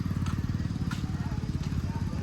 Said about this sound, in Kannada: ಸ್ಕೂಟಿ ಗಾಡಿ ಒಳಗೆ ಹರ್ಕೊಂಡು ಹೊಂಟಿವಿ ನೋಡ್ರಿ